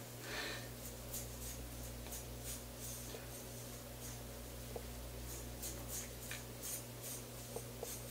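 Faint, steady scratchy rasping of a razor across the skin of a bald head, with soft crackles and small clicks over a low constant hum.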